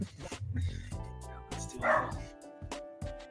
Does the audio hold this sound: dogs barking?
yes